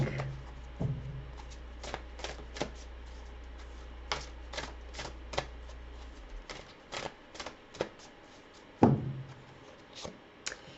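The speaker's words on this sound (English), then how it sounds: "Let's pull a card here from the Empathic deck." An oracle card deck being shuffled and a card pulled, heard as a series of quick, close, crisp card riffles and flicks at an irregular pace, ending in a louder rustle as a card is drawn.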